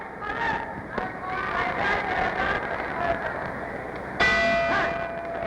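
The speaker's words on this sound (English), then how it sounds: "There's the bell ending round 2" Boxing ring bell marking the end of round 2 in a world welterweight title fight, a bright ringing strike near the four-second mark over steady arena crowd noise and a commentator's voice.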